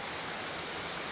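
The fifth tier of Erawan waterfall in Kanchanaburi roars as a steady, dense, broadband rush of falling water, loud and constant with no voices over it.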